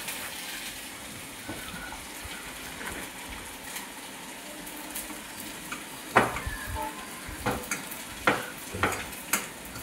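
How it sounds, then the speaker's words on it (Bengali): Chicken snacks frying in hot oil, a constant bubbling hiss up close, joined in the second half by several sharp clinks and scrapes of a utensil moving the pieces. "গরম তেলে ছেড়ে দিয়ে এগুলো ভেজে নেব।"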